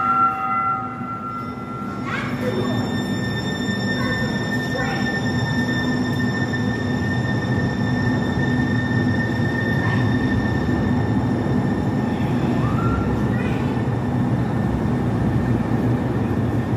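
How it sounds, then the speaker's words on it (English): A light rail train departs, rumbling steadily close by with a high tonal whine and occasional wheel squeals, the heavy noise holding loud throughout. "Yeah, just wait till the train leaves."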